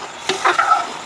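Handi curry frying in a pot, with a short burst of stirring and sizzle that rises mid-clip before settling into a steady close hiss.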